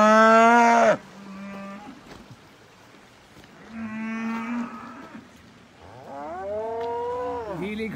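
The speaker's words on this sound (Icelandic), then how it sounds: "Á Stekkjarflata kýrnar, þær baula mikið núna" Cows bellowing loudly and close by, three long drawn-out moos with gaps between them. There is no talking.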